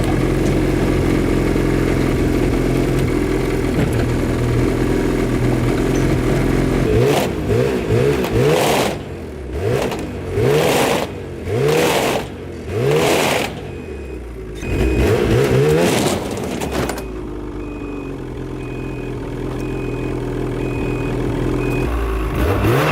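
A Ford 6.7 Powerstroke diesel pickup truck engine idles loudly up close, then is revved hard in a run of about five throttle blips before settling back to a steady idle.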